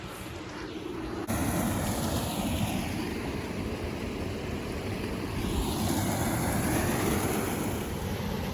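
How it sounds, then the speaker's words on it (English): A loud waterfall on a river roars close by, a steady broadband rush of falling water with no voices. "this waterfall is pretty loud because I'm right next to it"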